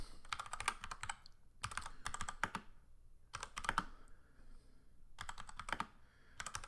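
Bursts of clicky typing on a computer keyboard, close and fairly quiet, come in several uneven clusters separated by short pauses, with no talking over them.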